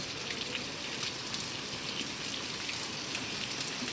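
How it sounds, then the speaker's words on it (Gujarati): Steady rain patters and hisses evenly, with scattered sharper drops ticking on a surface throughout. "ડાયરેક્ટ સીધું ચોમાવું આવી ગયું વરસાદ તો છે"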